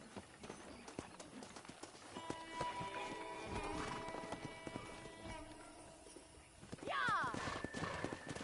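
Wild horses gallop nearby in the western game Red Dead Redemption, with hoofbeats clattering under a short neigh near the end and people talking throughout.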